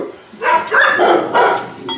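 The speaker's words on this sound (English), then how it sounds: "Dogs." Several dogs bark loudly and close by in a quick run of overlapping barks and yips that lasts about two seconds.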